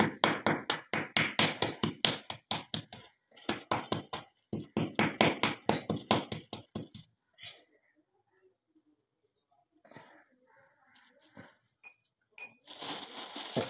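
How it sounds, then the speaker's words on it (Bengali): Milk solids pounded and crushed for a Bengali fried pitha, heard as a fast run of sharp, close thuds and taps for about seven seconds, then a few scattered softer knocks. "দুধটাকে থেতো করে নিলাম।"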